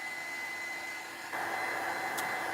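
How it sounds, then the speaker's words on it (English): A heat tool runs steadily with a constant whir to dry a mixed-media art piece, the airflow noise growing louder and fuller partway through as the tool moves closer, with no talking. "So let me dry this one first so it's permanent."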